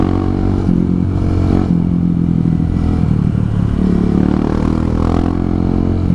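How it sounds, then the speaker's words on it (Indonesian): A motorcycle rides close over a muddy, slippery track, its engine droning loudly and continuously with rattling and scraping clatter, and no talk. "Motornya enak buat selip-selip."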